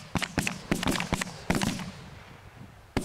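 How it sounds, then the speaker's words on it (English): Shotgun blasts during a goose hunt in Alberta, a rapid burst of several sharp, loud reports fired in quick succession, then a lull and one last shot. "Nice shooting, boys."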